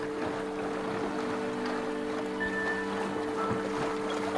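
Quiet lapping water and soft breeze along the Islay shore beside the Bunnahabhain distillery, a low steady wash with faint tonal hums and no voices.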